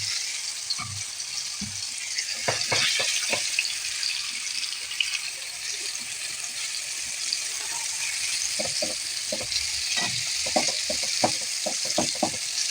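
Coconut oil fries with a steady, bright sizzle that carries through the whole stretch, broken by scattered light clinks and taps of stirring, with no voices.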